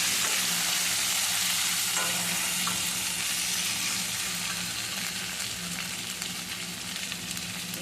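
Loud, steady sizzling of food frying in a pan for a village-style spicy curd curry, with occasional stirring scrapes over continuous crackling hiss and no voices.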